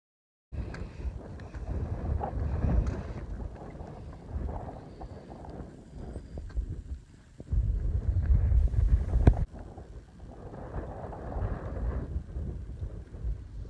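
Gusty wind buffets the microphone in uneven, rumbling bursts on a cold mountain top in the White Mountains, rising and falling with strong low roaring surges.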